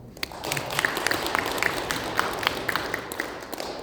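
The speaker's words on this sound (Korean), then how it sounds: "맞으시다면 박수 한번." A crowd at a Korean public debate forum on abolishing the National Security Act applauds on cue, steady dense clapping from many hands filling the room, moderately loud and without speech.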